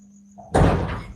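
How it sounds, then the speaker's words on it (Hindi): A classroom door is pushed shut with a single loud thud and rattle after a brief lighter scrape, the impact ringing out close by and fading quickly. "चलो बंद करो उसको, दरवाजा को बंद करो।"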